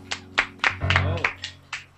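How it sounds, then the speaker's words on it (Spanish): Several sharp hand claps land at a steady, unhurried rhythm during a live online interview with a singer after a song, with a voice and a sustained tone carrying under the middle claps. "Muchas gracias por esos aplausos."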